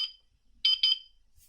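Hikvision AX Pro wireless intruder alarm panel beeps during the away-arming countdown, one short high tone followed by two quick beeps, clear and close in an otherwise quiet room.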